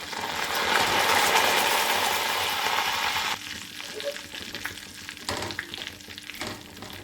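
Cumin, pepper and curry leaves hit hot ghee for ven pongal and fry with a loud, steady crackling sizzle, which drops to a softer bubbling hiss partway through, broken by a few sharper pops.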